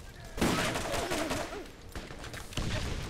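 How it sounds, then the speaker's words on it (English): A fully automatic rocket launcher in Borderlands fires a rapid run of booming blasts, with the loudest volley near the start and another burst toward the end, over game background noise and faint speech. "I have a fully automatic rocket launcher."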